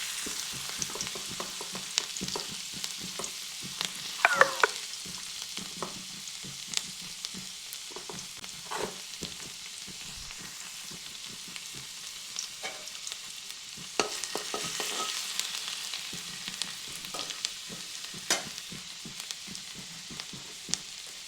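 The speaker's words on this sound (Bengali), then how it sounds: "তেলটি গরম হয়ে যাওয়ার পর দিয়ে দিচ্ছি রসুন" Chopped garlic fries in hot oil in a wok, giving a continuous close sizzle broken by repeated scraping clicks as it is stirred, with no voices over it.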